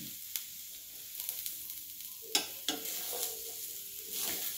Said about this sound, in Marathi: मका आता चांगली भाजून घेऊया डाग पडेपर्यंत